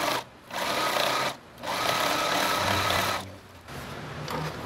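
A sewing machine stitches a seam on a scrap-fabric pouch, three close bursts of rapid even whirring separated by short pauses.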